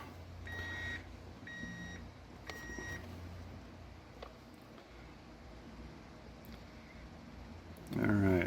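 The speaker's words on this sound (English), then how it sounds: "that nice little friendly beep there tells us that we do have a check engine light" An OBD2 scanner plugged into a Miata gives three short, clean electronic beeps close by, each about half a second long. A low hum fills the gaps, and a rustle comes at the end.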